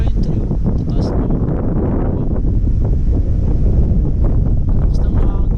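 Strong wind gusts across a mountain view deck among tall pine trees, roaring and buffeting the microphone loudly and continuously, with faint voices under the rush.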